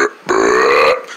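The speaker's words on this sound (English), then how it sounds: "Why are you burping?" A single loud, close burp from a person, one drawn-out throaty belch of about two-thirds of a second with brief quiet before and after, and no talking.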